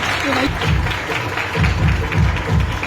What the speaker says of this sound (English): All of you have a huge round of applause.